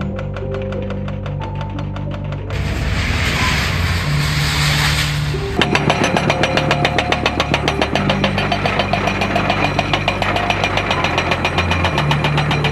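A demolition excavator's engine rumbles steadily, then its hydraulic breaker attachment starts pounding in rapid, loud, evenly spaced hammer blows over the continuous engine drone.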